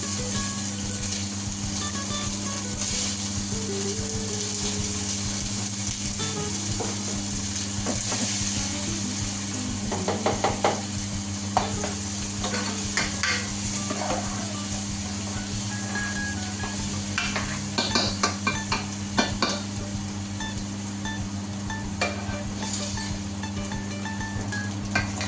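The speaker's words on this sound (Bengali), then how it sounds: "আমি ধীরে ধীরে পেঁয়াজটাকে গোল্ডেন ব্রাউন করব।" Onions and garam masala frying in a pan for Peshawari chicken curry, a steady close sizzle with occasional stirring clicks and scrapes, no voices.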